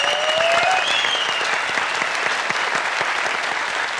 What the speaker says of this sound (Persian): بسیار عالی دوستا تشویقش کنین